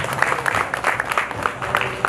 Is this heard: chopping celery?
no